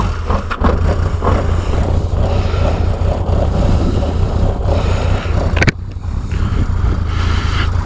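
A Yamaha XS1100 motorcycle fires up and runs at a loud steady idle outdoors at a rally in Australia, with wind buffeting the microphone.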